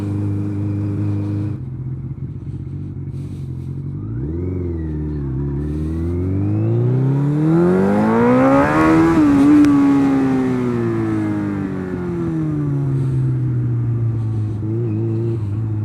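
A motorcycle revving up hard at full throttle on a road near a bridge, engine pitch climbing steeply through the gears to a loud peak, then holding and easing as it settles into a steady high drone, close by with wind rumble and no talk.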